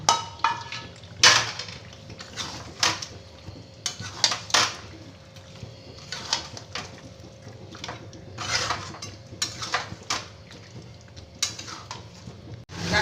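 Metal spoon scraping and clinking against a pot as fried onion, tomato and kasuri methi in ghee and oil are stirred into chicken for chicken do pyaza; irregular close clatter over a low steady hum, no talk.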